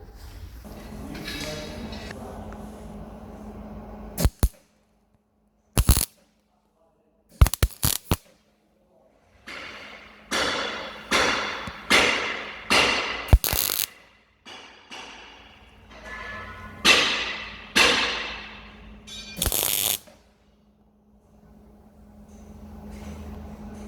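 Tack welding on a homemade steel pallet breaker, heard as a series of short sharp crackling bursts and snaps separated by pauses, each tack a few seconds long, close and fairly loud with a faint background hum.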